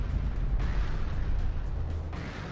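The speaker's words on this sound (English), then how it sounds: "Oh, now I can activate the airstrike." Airstrike explosions in the Artificial Extinction video game, a series of deep rumbling booms with short bursts landing one after another at moderate loudness, no talking.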